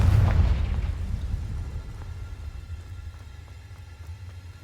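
A Confringo fire spell blast in Hogwarts Legacy, a deep booming explosion with heavy low rumble that hits at once and then slowly decays, standing alone without talk.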